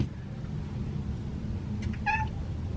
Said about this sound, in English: Oh, it's Boo. Boo's meowing.